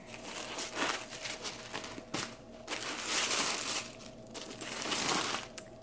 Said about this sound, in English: undo the tissue paper.